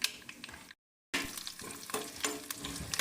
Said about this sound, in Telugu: తాలింపు వేయాక ఇట్లా కరివేపాకు వేసుకొని